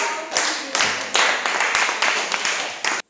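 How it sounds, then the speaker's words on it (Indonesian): A classroom of students clapping for a group, several short bursts of rhythmic hand claps close by, each swelling and fading, ending abruptly, with no talk. "Mari kita berikan tepuk tangan untuk kelompok."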